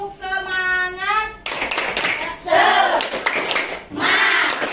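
A class of sixth-grade students performs a rhythmic clapping cheer in unison, with bursts of patterned hand claps and shouted group chanting, following a teacher's spoken lead-in.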